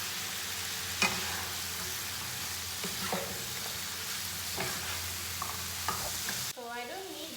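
Chili, tomatoes and potatoes stirred in a frying pan for mutton dalca, with a steady sizzle of frying and a few scraping spoon strokes, ending in a brief change of tone.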